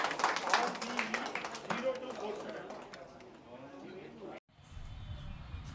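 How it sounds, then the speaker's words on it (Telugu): An audience claps for a lucky draw winner at a travel expo, with a dense burst of applause that thins and fades under a voice speaking over the crowd. "గట్టిగా క్లాప్స్"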